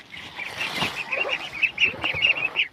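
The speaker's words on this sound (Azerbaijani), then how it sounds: "Gəldik bura ördəklərimizə baxaq." Ducks quack and honk in a steady, close chatter in a snowy yard, the calls rising and falling in quick bursts against faint background noise.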